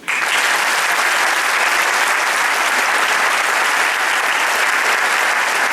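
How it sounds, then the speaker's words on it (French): A large audience claps loudly and continuously, a dense, even roar of applause sustained throughout. "je souhaiterais qu'on les applaudisse"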